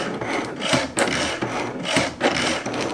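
A Cricut cutting machine loads and cuts layered card stock, giving a close, steady mechanical whirring and rasping with rhythmic louder strokes about once a second.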